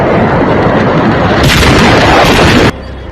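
Firecrackers exploding during a factory blast in Harda, a loud dense roar of crackling bursts that swells midway and then drops off sharply, heard without any talk.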